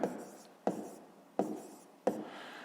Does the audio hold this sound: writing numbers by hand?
yes